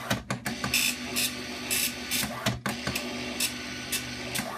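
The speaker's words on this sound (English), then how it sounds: "we're going to print calibration." A Commodore 64 ink ribbon printer prints a calibration page with a loud, rasping mechanical chatter of print head strikes and carriage sweeps, coming in rapid bursts close by.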